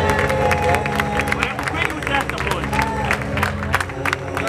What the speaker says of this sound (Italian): geef hem een heel warm applaus